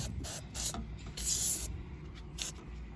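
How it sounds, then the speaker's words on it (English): A spray bottle of car cleaner spritzes several quick bursts during a car interior cleaning, each a sharp, close hiss with short pauses between. "Oh, I forgot it sprays like that."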